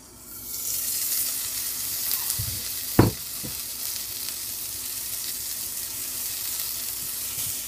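A hamburger patty sizzles on a Range Mate cooker, a continuous even hiss with one sharp clack partway through.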